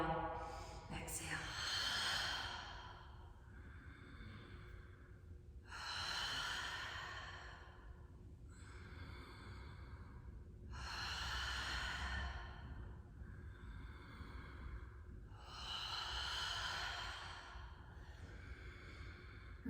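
Slow, deep breaths during a guided moon yoga exercise come as four long, airy inhale-exhale cycles, close and steady, with a faint steady tone beneath.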